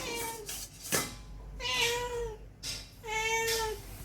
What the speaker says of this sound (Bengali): এবার এটা তো ম্যাও ম্যাও করছে, এতে কি দেওয়া যায়?